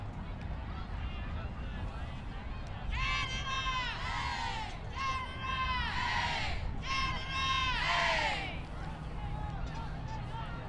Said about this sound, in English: Canada is well represented in the stands right now, if you can hear the cheering.